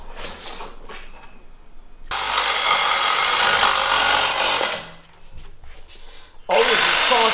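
Reciprocating saw cutting on a custom car during engine mock-up: loud buzzing bursts of several seconds each, separated by brief pauses and handling noises, close by with no talking.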